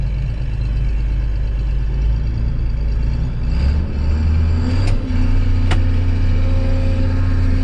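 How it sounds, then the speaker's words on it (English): An old combine harvester drives with a steady, loud, low engine drone that persists throughout, the engine rising slightly in pitch midway, with a couple of brief sharp clanks near the end. "Probably one of the last drives in the old combine here."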